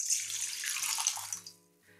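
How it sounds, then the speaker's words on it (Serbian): Warm water, 500 ml, poured into a mixing bowl, a bright close splashing gush that runs steadily and then tapers off, over a faint background hum. "U posudu za mešanje sipamo 500 ml tople vode."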